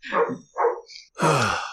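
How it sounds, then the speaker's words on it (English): A dog barks three times in short, sharp bursts, fairly close, the last bark longer and rougher. "That's a dog. Control your pet."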